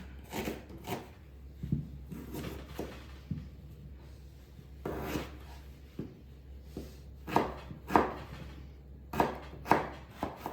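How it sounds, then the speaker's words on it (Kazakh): A knife chops an onion on a board in irregular bursts of quick cuts with short pauses between them, close and fairly quiet, with no talking. "Енді біз келесіде мына жуаны турап басайын беретін боламыз."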